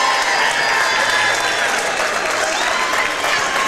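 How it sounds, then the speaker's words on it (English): A large, loud crowd of South Decatur fans cheering and clapping at a high school game, a continuous roar of applause and shouting that stays strong throughout, with faint voices mixed in. "huge crowd for South Decatur, and they've been loud all day long"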